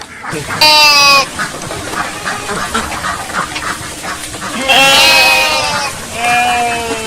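Sheep bleating close by, with loud wavering cries at the start and again near the end, other animal noises and human voices mixed in between.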